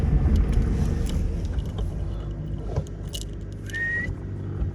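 A Fiat Panda 4x4 driving off-road with four-wheel drive engaged in super low first gear, a steady close engine and drivetrain rumble with rattles and a brief whine, no talk.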